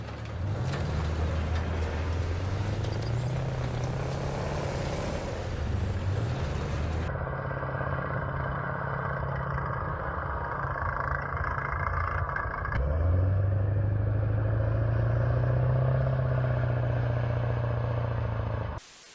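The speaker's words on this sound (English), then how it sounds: "the engine sound effects are spot on" Armored vehicle engines in the video game Battlefield 6 drone and rise in pitch as they accelerate, with a sudden shift partway through to a steadier, louder heavy engine hum.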